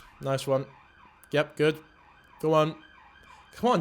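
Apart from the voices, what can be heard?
ambulance siren passing outside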